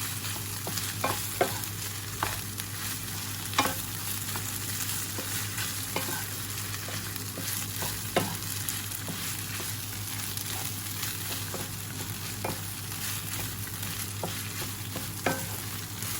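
Bamboo shoots and fish balls stir-fried in a pan for a spicy curry, with a steady oil sizzle and repeated scraping strokes of a spatula throughout, no voices.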